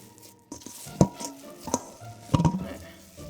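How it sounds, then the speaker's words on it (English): Keto dough being kneaded together by clean bare hands, giving a few soft, sticky squelches and slaps with brief pauses between them, close up and fairly quiet. "So I have clean hands and I'm gonna knead it together now"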